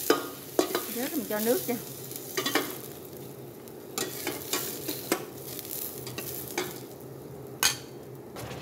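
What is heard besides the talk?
stir-frying ingredients in a pan for durian soup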